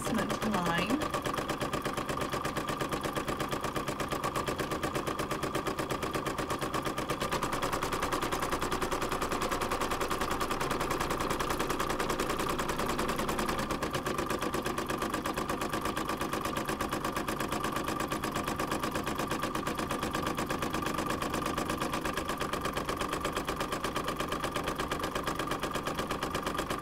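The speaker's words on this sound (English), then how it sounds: "the first thing that it's stitching is the placement line" Embroidery machine stitching a placement line, a rapid steady mechanical chatter of the needle running continuously at an even pace, close up, with a person talking over it.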